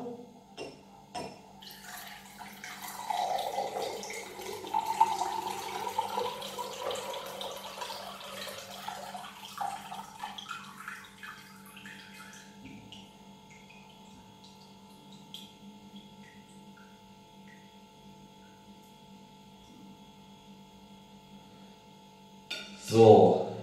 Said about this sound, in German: Gucken, ob ich das Wasser so in das Glas bekomme.